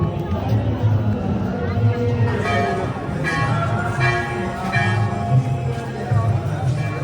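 A dense crowd presses toward the Akshayavat gate in Prayagraj, a constant hubbub of many voices with bell-like tones ringing through. A nearby person talks over the din.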